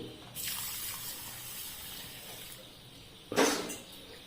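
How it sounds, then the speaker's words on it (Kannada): Water poured onto a cup of cleaned finger millet to wash it, a gushing pour heard close and fairly loud against a quiet room, ending with a brief heavier splash. "ಅದಕ್ಕೆ ಈಗ ನೀರು ಹಾಕಿ"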